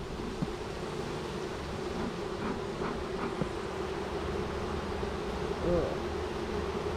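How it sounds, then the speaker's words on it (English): Honeybees buzz in a steady, moderately loud drone as a beehive is opened and inspected, with a brief grunt from a person partway through. "There are a lot more bees than what we"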